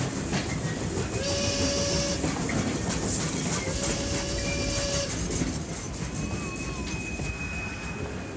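SBB Cargo freight wagons shunt through the Biel rail yard, with loud continuous rolling and clattering of cars, metallic squeals and several sustained whistle-like screeches rising over the steady rumble.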